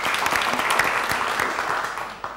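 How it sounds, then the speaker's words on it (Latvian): Short burst of audience clapping greets a speaker taking the stage at a talk event, dense and moderately loud, tapering off within a couple of seconds. "Ar aplausiem sagaidām."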